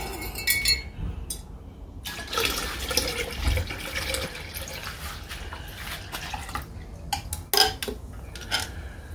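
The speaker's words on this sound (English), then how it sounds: "Add a little bit more HCl to this, so I rinse this out." Water splashes and sloshes as a container is rinsed out during a gold recovery process using hydrochloric acid, with clinks of glassware and drips, close and intermittent with no talk.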